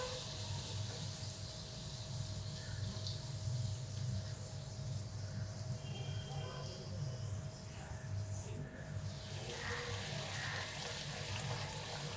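Puris frying in hot oil for an aamras puri meal, giving a steady, unbroken hiss and fine crackle that continues evenly throughout at a moderate level.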